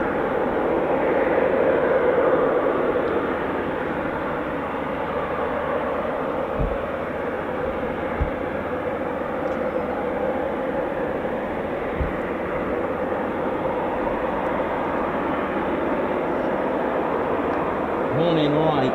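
A Eurofighter Typhoon FGR4 jet takes off at an RAF station, making a broad, steady, loud roar that holds for the full nineteen seconds without a break.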